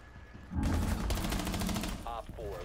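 Rapid game gunfire from Rainbow Six Siege bursts in a dense rattling volley for about a second and a half, followed by a man's brief exclamations.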